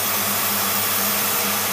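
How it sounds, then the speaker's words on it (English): A boat engine fitted with an AFB Carter 9772 carburetor running steadily while slightly hot, giving a loud, constant droning roar with a low pulsing hum and no talk. "the motor's getting a little hot running it"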